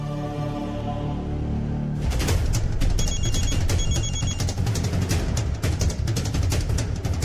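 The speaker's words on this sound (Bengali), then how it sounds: "ফোন করে দেখি একবার।" A telephone rings on an outgoing call, repeated bell-like trills that start after a quiet opening and continue loudly and steadily, with no talking.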